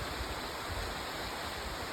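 The North San Jacinto River rushes steadily, a dense broadband wash of flowing water with no breaks, close and fairly loud, and no voices over it.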